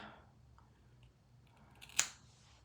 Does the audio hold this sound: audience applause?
no